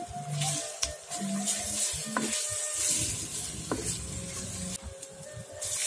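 Turmeric leaves dropped into a pan of Padang-style spicy-sour tuna curry with ground chili paste, giving a steady close sizzle with scraping stirs and a couple of brief clinks.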